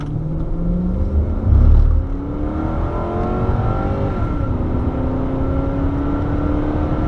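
A 1996 Lexus LS400 accelerating hard from a standstill to 60 mph, heard from inside the cabin. The engine note climbs steadily in pitch through the gears, each shift briefly dropping the tone, with a low thump near the start.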